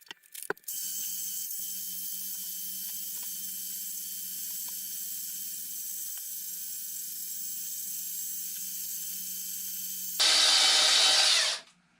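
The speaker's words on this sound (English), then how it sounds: "We're done with the sanding." A power sander runs steadily on the plastic headlight lens of a 2005 Pontiac Grand Prix GXP, a constant whirring hum for about ten seconds, then a louder, harsher burst of grinding before it cuts off.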